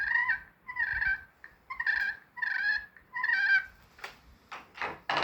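A hand-operated turkey call making a run of rolling purrs followed by short, sharp putts, close and clear with brief gaps between the notes.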